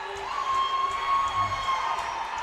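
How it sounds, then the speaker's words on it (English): A hockey arena crowd at the Covelli Center cheers in a steady, sustained roar during a USHL game, with a sustained tone running underneath. "This Covelli Center crowd loves it."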